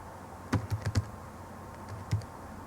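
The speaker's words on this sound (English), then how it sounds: "Then we need to type our last bit of code." Keys clack on a computer keyboard as code is typed in Xcode, a quick cluster of close taps followed by a pause and a couple more scattered keystrokes, with no talking.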